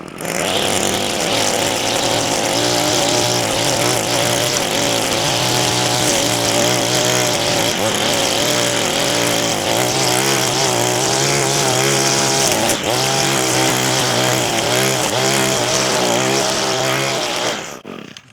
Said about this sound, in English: hit it with that string trimmer again, because a lot of that stuff just laid down